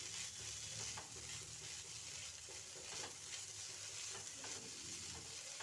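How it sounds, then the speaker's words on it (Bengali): Garam masala and chopped coriander stirred into a frying winter-vegetable snack filling, a steady soft sizzle with scraping spoon strokes, close and continuous, no talking. "এবার দিয়ে দেবো অল্প একটু গরম মশলা গুঁড়ো আর অল্প একটু ধনেপাতা কুচি দিয়ে সব উপকরণ ভালো করে মিশিয়ে নেব।"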